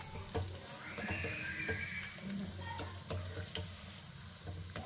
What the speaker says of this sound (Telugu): చికెన్ కదా, అందుకే సిమ్లో పెట్టి వేయించుకోవాలి